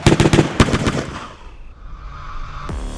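A rapid burst of gunfire from the guns of battle sisters in a corridor assault, several sharp loud shots in quick succession at the start, then a decaying reverberant tail and a final heavy blast near the end.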